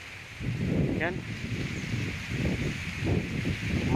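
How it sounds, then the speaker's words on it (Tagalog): Strong southwest monsoon wind blowing across a cornfield, a loud continuous low roar and buffeting with rustling, under a brief spoken word. "At ang lakas ng hangin dito"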